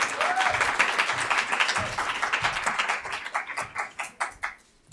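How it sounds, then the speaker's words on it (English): An audience at a women's agri-food summit applauds as a guest is called to the stage, a dense, fairly close wash of many hands that thins into fewer separate claps near the end. "Applause."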